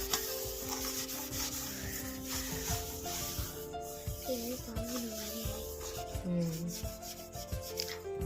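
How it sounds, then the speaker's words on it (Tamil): A lemon is rubbed lightly against a plate, making soft, repeated scrubbing strokes close by, with faint tonal background sounds underneath. "லைட்டாக தொட்டு ஸ்க்ரப் பண்ணலாம்"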